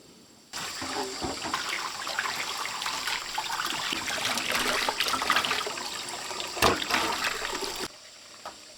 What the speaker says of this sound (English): While the water heated up, I washed the liver carefully.